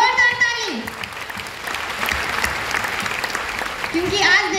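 A seated audience at a DXN business meeting claps in a sustained burst, dense and even, with a speaker's voice briefly heard at the start and again at the end.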